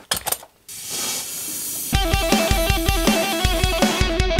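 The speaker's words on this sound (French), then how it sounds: "là ça crépite au niveau du cylinder block. Il est en train de cramer." Red-hot metal on a Tesla Model 3 hub carrier gives a steady loud hiss like escaping steam, then a run of sharp rhythmic crackles and ticks on top.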